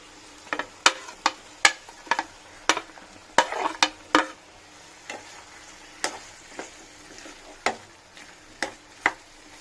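Medium-cut capsicum pieces are stirred and fried in a pan for gravy, with sharp spatula clicks and scrapes at irregular intervals over a faint, steady sizzle.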